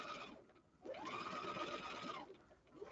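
Sewing machine back stitching into a men's ballet shirt, a steady mechanical whir running for about a second and a half between quieter pauses.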